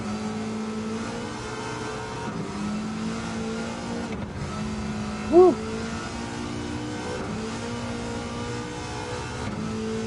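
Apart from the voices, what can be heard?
car engine revving in the video game Gran Turismo 7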